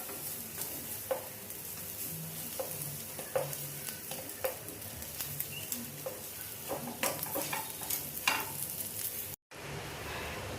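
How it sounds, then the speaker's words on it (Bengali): Soya fritters frying in a pan, a soft continuous sizzle with scattered taps and scrapes of a utensil, cutting off briefly near the end. "বড়াগুলো আমার ভাজা হয়ে গেছে, এবার আমি বড়াগুলো নামিয়ে নেব"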